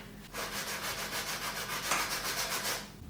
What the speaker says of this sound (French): Je vais essayer de faire avec les côtés. En plus, ça ponce pas beaucoup là.